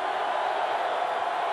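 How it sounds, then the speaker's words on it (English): Steady, dense roar of a football stadium crowd at a 1992 Miami versus Iowa night game, cheering to back the defense on third down, a continuous wash of noise with no breaks. "Crowd trying to help their defense now on third down and 15"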